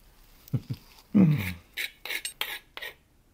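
A knife spreads butter at a breakfast table: a couple of soft taps, then a sequence of short scraping strokes with little gaps between them, close and quiet, with no talking.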